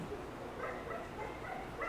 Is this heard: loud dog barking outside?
yes